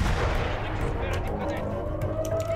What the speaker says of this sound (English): where the fuck is he shooting from?